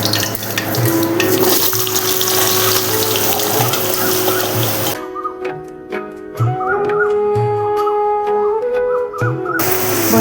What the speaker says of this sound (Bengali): এখন তেলের মধ্যে আমি ডুমো করে কেটে রাখা ছদ্মবেশী পোস্তর জন্য আলুগুলো দিয়ে দিচ্ছি।